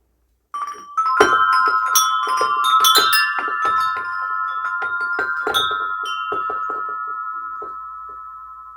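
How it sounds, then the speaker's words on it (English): A set of chimes struck in quick succession, bright ringing tones overlapping and sustaining close by before slowly fading, with no voices. "I'm going to go ahead and bring my chimes before I proceed with the message"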